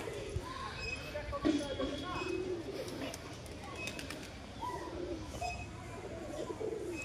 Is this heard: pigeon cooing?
yes